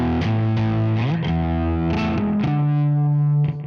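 Electric guitar played through a Quad Cortex pitch shifter set up two semitones, heavily distorted, with sustained chords and a few slides, loud and alone with no talk.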